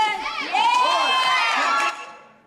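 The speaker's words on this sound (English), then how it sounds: "Listen to the cheering." A room of excited children cheers and shouts together, high voices rising into a loud, sustained burst that holds for about a second and a half before fading out at the end.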